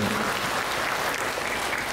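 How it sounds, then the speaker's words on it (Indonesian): Audience applause at a Muhammadiyah Sunday-morning Islamic gathering in Pekajangan, a steady, dense wash of clapping holding at even loudness for the full two seconds with no voices over it. "Maka tepuk tangan untuk panjenengan."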